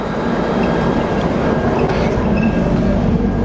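Inside an executive-class carriage of the Shatabdi Express on the New Delhi to Kalka run, a steady, close rumble of the moving train fills the space, with a continuous roar and faint wheel clatter throughout.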